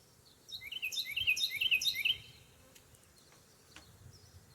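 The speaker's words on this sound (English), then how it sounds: "And there's a bee in there with her" A bee trapped in a queen cage box alongside a queen gives a quiet, rapid buzz lasting about a second and a half, then fades to faint background hiss.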